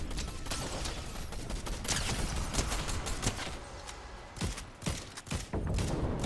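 Gunfire in Fortnite, a mix of sharp shots and thuds, some crisp and close, others duller, fired in an uneven, scattered rhythm over a noisy battle background.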